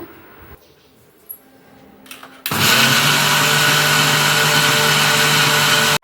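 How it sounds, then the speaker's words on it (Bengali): An electric spice grinder pulverising cumin starts up abruptly after a quiet stretch, then runs as a loud, steady high-pitched whirring drone for several seconds before cutting off. "মেশিনে দিয়ে ভালো করে গুঁড়ো করে নেব"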